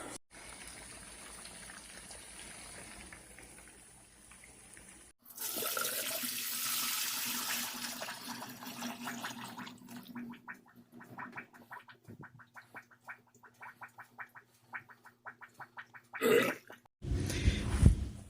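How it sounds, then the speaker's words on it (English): Hot boiled water poured from a pot down a clogged household drain, a sustained gushing splash for several seconds that then fades into sparse drips and gurgles, ending with a brief louder rush. "Alright, well, I poured that hot water down there."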